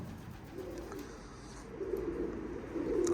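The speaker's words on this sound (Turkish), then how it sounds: "Papağan gibi kuş. Ya da muhabbet kuşu diyelim." A pet budgerigar, a small parrot-like bird, calls indoors in a house turned into an aviary, giving soft low cooing and warbling notes that swell louder toward the end, with no one talking.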